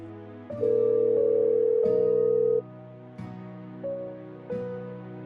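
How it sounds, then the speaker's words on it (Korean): An outgoing telephone call rings out in a handset, a steady electronic tone held for about two seconds, then shorter beeping pulses follow, clear and close with no voices. "어느 날, 이재복이 먼저 전화를 걸었습니다."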